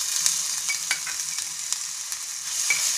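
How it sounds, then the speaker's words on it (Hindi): Ginger paste is stirred into tomato chutney in a pan, with a light frying sizzle and scattered spoon scrapes and taps, close and moderately quiet, no voices. "इसे अच्छे से मिक्स करें।"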